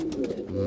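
A Chotiyal Madrasi pigeon, a double-banded bird, gives a short close, loud throaty coo ending in a sustained low rumble.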